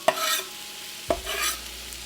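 About four cloves of minced garlic frying with jalapeños in a chili pot, stirred with two scraping strokes over a soft steady sizzle, close up and without speech.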